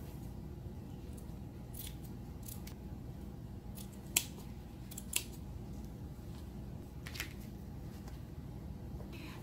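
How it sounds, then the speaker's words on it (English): Scissors snip fabric for a handmade fabric flower in a few quiet, sparse cuts with sharp clicks, close to the listener against a low steady background hum, with no talking. "So now I will cut this part."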